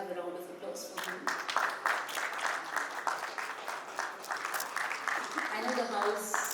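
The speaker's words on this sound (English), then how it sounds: "applause for him." Audience applause at a panel discussion on financial prudence in Rajasthan, a moderate round of clapping from the crowd mixed with voices talking over it, continuing steadily to the end.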